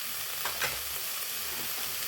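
Chicken and ash gourd stirred together in a pan for a Palakkad-style curry: a faint, steady sizzle with a couple of short spatula scrapes near the start.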